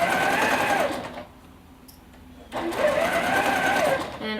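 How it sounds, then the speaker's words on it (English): A sewing machine stitches a quarter-inch seam with backstitching on a quilted gusset, running steadily and close for about a second, pausing nearly silent, then whirring again at the same even speed. "So do a nice 1/4 inch seam, back stitch nicely."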